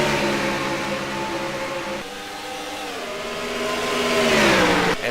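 Race cars in a stock car racing video game at Dover roar past in a steady, loud engine drone, with pitch shifting as cars accelerate and sweep by, no talk.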